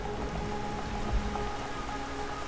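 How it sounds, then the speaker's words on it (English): Rain falls in the video game Xenoblade Chronicles as a constant, even hiss of downpour. It holds at a moderate level throughout, with no voices over it. "it's raining outside"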